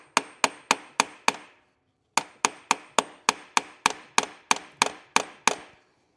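Sharp metal-on-metal hammer taps against the dowel pins of a 2014 Subaru Forester CVT case, loud and close, in two steady runs of evenly spaced blows with a short pause between them.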